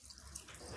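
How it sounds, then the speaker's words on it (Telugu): Water poured onto tamarind in a pressure cooker while cooking chana dal with gongura, a brief soft splashing trickle with no talk. "ఆ చింతపండు వేసేసి కొంచెం వాటర్ పోసుకోండి."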